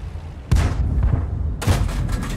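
Two heavy cannon shots from a Type 3 Ho-Ni III tank destroyer in World of Tanks, each a sharp loud blast followed by a rumbling tail, about a second apart with no talk.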